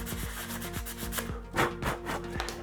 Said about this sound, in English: I have to flat down the surface, and that's why I use the 180 grit